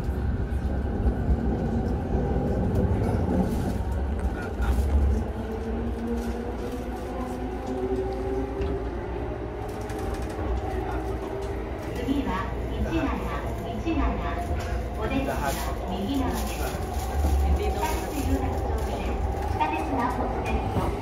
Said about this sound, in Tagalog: we're going to ride the train